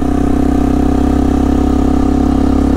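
A motorcycle engine runs steadily in low gear on a descent into Pai in northern Thailand, holding back the bike with engine braking; the close, loud, even drone carries a constant low hum with no speech over it.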